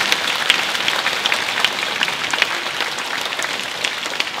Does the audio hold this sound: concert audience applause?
yes